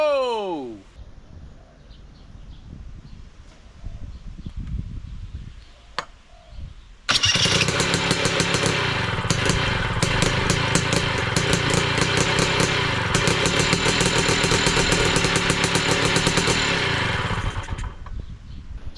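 A homemade two-stroke trike engine cranked by a 24-volt starter motor catches and fires up, turning into a loud, steady, buzzing run that lasts around ten seconds before easing off.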